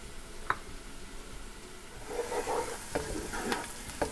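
Onions fry in a pan for mushroom soup, a soft continuous sizzle broken by a few sharp utensil knocks and stirring scrapes, close and moderately quiet.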